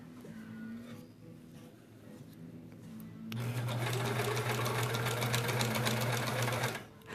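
A sewing machine stitches a quilt block, a loud steady mechanical hum and clatter running for several seconds after a quieter stretch, then stopping abruptly.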